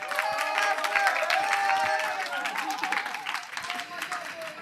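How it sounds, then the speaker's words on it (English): Audience applause at a university book talk, dense clapping with a speaking voice over it that tapers off toward the end. "can I hear another round of applause from the audience?"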